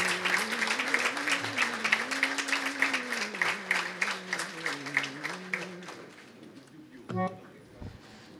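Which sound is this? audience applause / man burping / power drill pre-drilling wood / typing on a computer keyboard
audience applause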